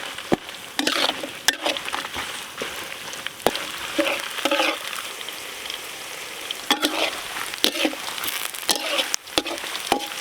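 Curry leaves, crushed garlic and green and Guntur chillies fry in a pan for village-style country chicken pepper dry, giving a steady close sizzle broken by frequent sharp scraping and stirring clatters.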